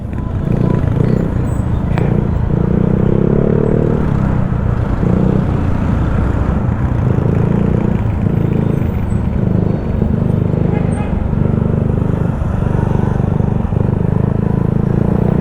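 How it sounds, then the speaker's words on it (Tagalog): Road traffic with cars, motorcycles and jeepneys in the town of Bauan, heard from a Yamaha Mio Sporty scooter: a close, steady engine drone with pulsing low rumble and passing vehicles, while someone talks over it throughout. "Grabe na naman yung traffic dito."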